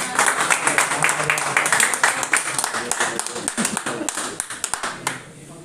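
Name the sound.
seminar audience clapping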